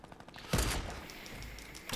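Gunfire in the video game Fortnite Battle Royale, with faint clicks and then a loud burst of shots at about half a second that rings and decays, ending with another shot.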